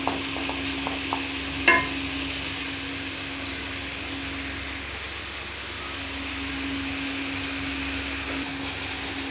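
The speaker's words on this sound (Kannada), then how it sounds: "ಈಗ ನೋಡ್ರಿ ಎಲ್ಲ ಎಣ್ಣೆ ಒಳಗೆ ಫ್ರೈ ಆಗೈತ್ರಿ ಅದು ಕಲರ್" Poori dough fries in hot oil, a steady, even sizzle with a constant low hum behind it and a brief clatter early on.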